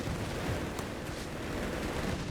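Dense battle gunfire from Company of Heroes 3, a Wehrmacht versus US Forces match, with machine gun bursts joining a steady, crowded din of shots and rumbling fire throughout.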